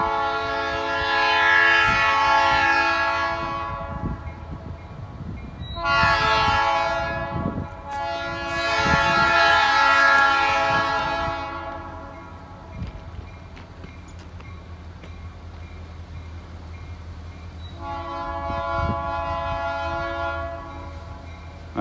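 A locomotive-hauled train rumbles past a new railroad crossing with repeated loud horn blasts, several long honks separated by quieter stretches of rolling rail noise.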